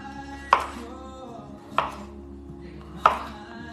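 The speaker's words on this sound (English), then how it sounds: "you grab your potato and all you do literally is cut in a half lengthway" A knife chops through a potato lengthways on a board, giving three sharp, evenly spaced cuts that ring out close and clear over a quiet background hum.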